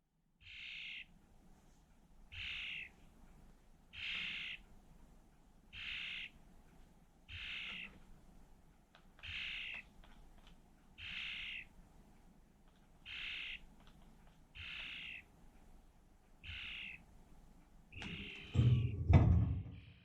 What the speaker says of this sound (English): usually he makes a low chirping sound as if he's content